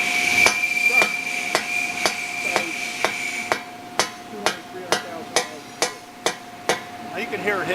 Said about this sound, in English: They're nice enough to get a dead blow hammer.